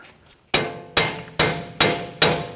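A hammer strikes a wheel hub to drive it out of the steering knuckle on a 2017-2020 Hyundai Elantra during front bearing replacement, five sharp, loud metallic blows at an even pace with ringing decay.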